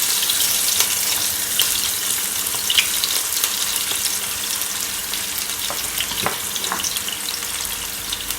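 Fresh thyme sautéing in a pan for Jamaican sardine season rice, a steady bright sizzle and crackle with occasional light stirring clinks and pops, close and continuous with no talking.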